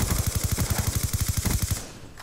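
Rapid automatic gunfire in Call of Duty: Black Ops 2, a steady stream of about twenty evenly spaced loud shots that stops abruptly near the end, leaving a brief quieter tail.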